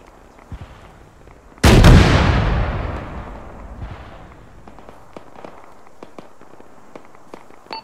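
A single loud gunshot from the military video game Arma cracks nearby and rolls off into a long echoing tail, then leaves a faint, scattered background.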